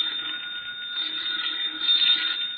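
An old telephone rings continuously in a vintage radio drama, a thin, narrow-band trill that sounds tinny and slightly distant, with no talking over it.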